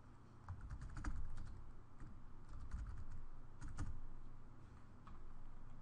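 Steady typing on a computer keyboard goes on under room hum, the close, rapid keystrokes entering answer choices into a test form in Blackboard.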